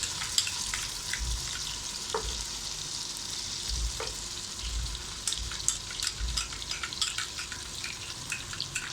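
Steady sizzling of ginger-garlic paste frying with onions in a hot pan for aloo palak salan, with occasional stirring clinks and scraping, close and fairly quiet, no voices.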